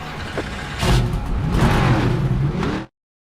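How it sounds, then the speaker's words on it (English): Stock car engines from the NASCAR 25 video game fire up and rev hard together, a loud, dense roar that swells and holds before cutting off abruptly. "Drivers, start your engines!"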